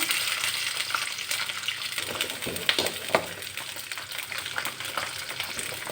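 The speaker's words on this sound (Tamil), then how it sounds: "அதில் இந்த சின்ன வெங்காயத்தை சேர்த்து வதக்கிடலாம்" Steady crackling sizzle of shallots frying in hot oil, with a few sharper pops and stirring clatters rising above the constant hiss.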